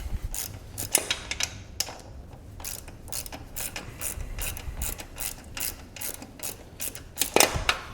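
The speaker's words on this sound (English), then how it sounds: "Might get that handier with the socket. A small ratchet." A small ratchet clicks as it turns a socket on the rear brake caliper bolts of a Honda CB500X motorcycle, close and crisp in repeated quick bursts of ratcheting with short pauses, no talking.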